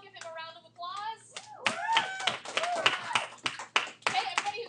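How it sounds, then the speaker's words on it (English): Classroom round of applause from students in an algebra class, a burst of scattered claps that builds and continues for several seconds, preceded by a teacher talking. "Okay, everybody who agrees with Jiro, give him a round of applause."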